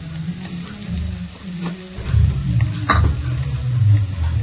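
Red chilli paste hits a hot pan while making crispy chicken lollipop, bursting into loud crackling sizzle with stirring scrapes and a sharp clink of a utensil, the frying swelling louder in the second half.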